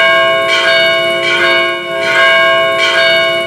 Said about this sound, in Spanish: las campanas de las diversas iglesias católicas sonaron en todo El Salvador